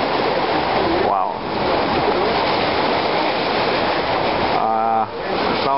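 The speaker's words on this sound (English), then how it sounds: "The sound of the waves crashing." Continuous roaring surf at a Singapore waterway, waves crashing in a steady wash of noise, with brief voices breaking in over it.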